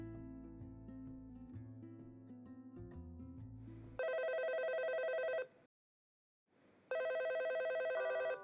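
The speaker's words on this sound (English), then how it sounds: "I woke up to the sound of the phone ringing" A telephone rings indoors in two loud, bright electronic bursts separated by a short silence, following a stretch of lower tonal music.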